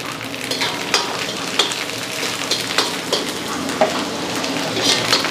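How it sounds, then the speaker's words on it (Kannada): Curry leaves hit hot oil in a large batch of military hotel style pork fry, producing a steady, close crackling sizzle with sharp pops and spits scattered throughout. "ಆಯಿಲು ಕಾವಾದ್ಮೇಲೆ ಸ್ವಲ್ಪ ಕರಿಬೇವು ಸೊಪ್ಪು"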